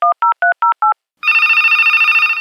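A telephone rings with five short, evenly spaced electronic beeps, then a sustained, louder harmonic ringtone tone, clear and close with no talking.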